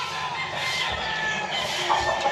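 Chickens cluck and murmur at a moderate distance on a farm in hot weather, with a few sharper calls rising over a steady outdoor background.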